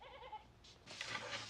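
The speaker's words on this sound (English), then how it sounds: "A goat." A goat bleats a couple of times, a short nasal cry standing out over a quiet indoor background.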